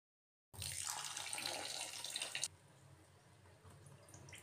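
Rice rinsed in water: a loud, steady rush of running water from a tap for about two seconds that then drops to a quieter trickle and swish with a low background hum.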